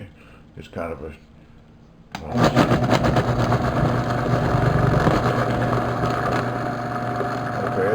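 A Vitamix 7500 blender running empty kicks on after brief talk, settling into a loud, steady motor whir that holds to the end while a voice speaks briefly.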